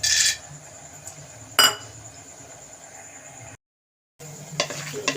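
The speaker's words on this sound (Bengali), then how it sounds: "এই যে বাদামটা এখন আমি কড়াতে একটু ভেজে নিচ্ছি" Peanuts fry in a kadai for a vegetarian daliya dish, a low steady sizzle with sharp metallic clinks of a utensil against the pan, a short gap of silence, then more clattering stirs.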